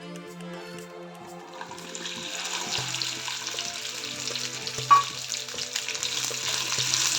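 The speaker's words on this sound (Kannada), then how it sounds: "ಆಯಿಲ್ ಕಾದಿದೆ. ಇದಕ್ಕೆ ನಾನು ಬೆಂಡೆಕಾಯಿ ಹಾಕ್ತೀನಿ." Okra dropped into plenty of hot oil in a pan: the frying starts quietly, then swells into a loud, steady, crackling sizzle with a brief bright clink partway through.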